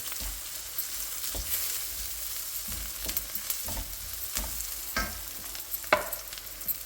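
Coriander and mint tossed into hot tempering oil for a chicken curry, a soft continuous sizzle punctuated by several sharper spatters and stirring scrapes at irregular intervals.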